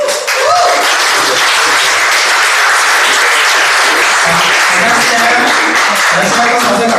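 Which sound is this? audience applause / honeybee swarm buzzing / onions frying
audience applause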